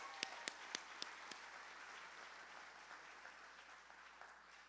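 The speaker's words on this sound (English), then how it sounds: "Let's give her a round of applause" Audience applause at an all-employee meeting: steady, dense clapping from a crowd filling the room at moderate distance, with a few sharper individual claps near the start and the sound trailing off slightly toward the end.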